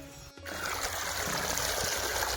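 Water from a pump engine runs back through a pipe on a farm, a steady rushing trickle that starts abruptly after a brief pause and then flows on evenly and close by.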